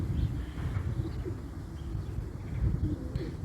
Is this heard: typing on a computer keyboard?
no